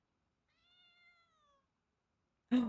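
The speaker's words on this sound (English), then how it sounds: "I hear a cat." A single faint, drawn-out cat meow in an otherwise quiet scene, followed by a brief burst of another sound at the end.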